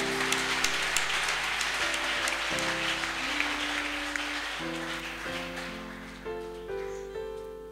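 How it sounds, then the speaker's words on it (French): Applause from a church youth gathering rises as a broad wash of clapping hands beneath sustained keyboard chords, steady through most of the stretch and thinning toward the end as the music carries on. "Applaudissez."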